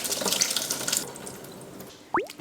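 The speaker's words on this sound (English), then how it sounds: "let's lay the seaweed and add just enough water to submerge it in the pot" Water pours from a tap into a large pot over dried seaweed for Korean seaweed soup, a rushing stream that tapers off, followed by a sharp clunk near the end.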